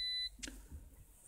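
A phone plugged in to charge inside a car gives one short, clear electronic beep at the start, followed by faint rustling.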